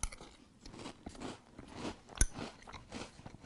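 Someone chews a mouthful of crunchy Post Chips Ahoy cereal close by, soft, faint crunching and munching with one sharper crack midway.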